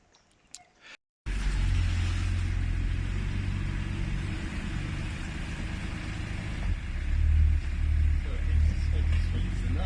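A 1989 Ford Granada Scorpio Mk3 with its 2.9i engine starts after a brief rustle and settles into a steady, close, deep rumbling idle that swells louder near the end, with faint voices in the background.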